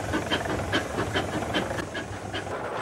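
Rhythmic steam locomotive exhaust chuffing from the stack, steady beats about every half second over continuous hiss, fairly close and moderately loud.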